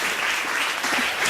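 Audience applause at an International Women's Day dinner, a steady sustained wash of many hands clapping in a banquet hall, continuous and fairly loud throughout.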